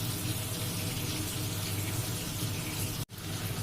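Water runs steadily from a tap while hilsa fish is washed in a kitchen, a constant close splashing hiss that cuts off abruptly near the end.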